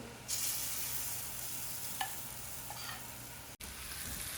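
Onion and tomato tadka sizzles in a pan, a constant close hiss with a couple of faint stirring clicks and no voices.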